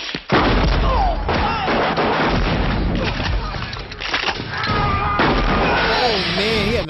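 Gunfire in a crime-film scene from LA Confidential, dense bursts of shots and booms over a constant loud soundtrack with shouting voices and music, close and continuous throughout.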